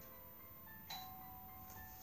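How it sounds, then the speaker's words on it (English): Home doorbell chimes faintly twice, a brief electronic ding sounding in a quiet room with no talk. "there goes my bell"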